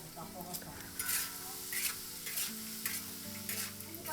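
Lunch cooking over an old wood-fired stove in a village hut, with a steady sizzle and repeated stirring scrapes close by. The sound runs alone with no talk.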